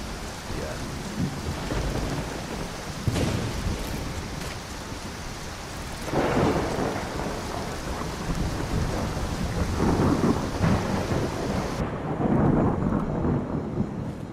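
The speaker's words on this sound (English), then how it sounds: "Oh, this game's storm just sounds so realistic." Heavy rain pours steadily in a Skyrim thunderstorm, with several deep rolls of thunder rumbling up through the downpour at intervals, loud and close.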